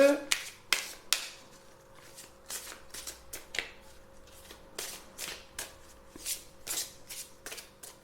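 Tarot cards are shuffled by hand in a quiet room, a series of crisp, riffling slaps repeating irregularly up close, with soft speech faintly in the background.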